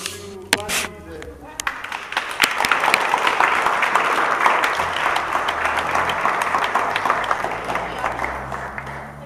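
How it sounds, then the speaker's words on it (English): Applause fills a room at a chess club's Freedom Day open tournament for the winner, a dense, steady wash of clapping that builds after a few early claps and holds. "I think he deserves a really big hand of applause."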